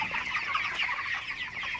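A flock of 30-day-old broiler chickens on a farm in the morning, a dense continuous chorus of soft overlapping clucks and chirps at moderate distance, steady throughout with no voices.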